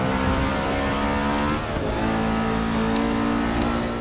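NASCAR race car in Forza Motorsport 6 accelerating hard, a loud, steady engine roar with dense harmonic buzz that holds throughout, briefly dipping mid-way before climbing again, no talking.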